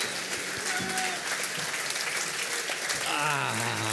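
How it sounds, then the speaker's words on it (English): Audience applause fills a conference hall, steady and dense throughout, welcoming two guest speakers at a Christian conference, with a voice briefly heard over the clapping near the end. "give them a warm round of applause for Dr. Sean McDowell and Jared Smith."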